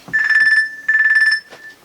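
A smartwatch rings like a phone: two long bursts of a bright electronic ringtone with a steady tone, then a shorter third burst, loud and close, with no talking.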